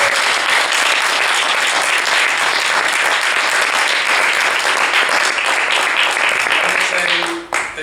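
Loud, sustained audience applause at a writers' conversation event, many hands clapping in a dense continuous roar that dips briefly near the end as a voice starts to come through.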